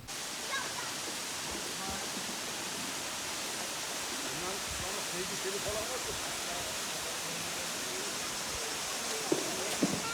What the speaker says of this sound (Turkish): Balıkesir'e gitmeden Aşıklar Şelalesi'ne uğradık